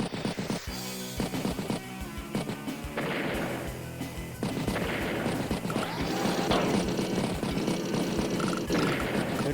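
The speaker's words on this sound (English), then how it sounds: "Battlecopter strikes tank." Battlecopter attack on a tank in Advance Wars: dense, busy game sound effects with clattering hits and a whirring rotor-like texture over backing music, no talk.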